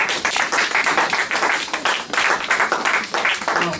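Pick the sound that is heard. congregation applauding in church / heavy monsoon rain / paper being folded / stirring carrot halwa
congregation applauding in church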